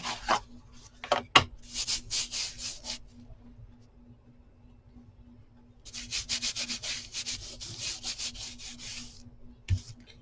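Walnut stain being rubbed onto wood by hand, heard as steady close scrubbing strokes in two stretches separated by a quieter pause, with a couple of sharp knocks early on.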